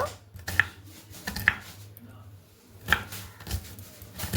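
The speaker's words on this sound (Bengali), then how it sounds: "এরপরে পেঁয়াজটা আমি খুব ভালো করে কেটে নিচ্ছি।" An onion is finely chopped with a knife on a board, sharp knife strikes coming in short, irregular bursts, fairly close, while someone talks over the cutting.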